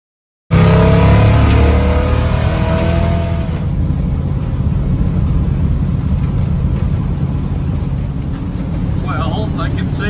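A pickup truck travels a gravel grid road in rural Saskatchewan. Its engine note sinks in the first few seconds, then settles into a continuous, loud rumble of tires and road noise.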